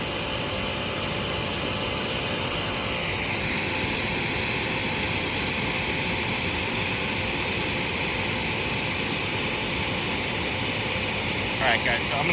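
A Quivr pressure washer runs continuously with a steady, dense hiss as its pressure climbs to about 1,000 PSI, loud and close throughout.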